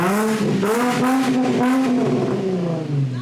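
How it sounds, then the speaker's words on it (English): An Infiniti G35 coupe with an ISR blast pipe exhaust revs up and down close by, its tone rising and falling in a throaty, wavering exhaust note. "it sounds like a freaking racing car"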